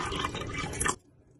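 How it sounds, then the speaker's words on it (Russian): Filtered tap water pours into a glass in a steady, close splashing stream for about a second, then stops abruptly, leaving near silence. "в стакан я наливаю воду"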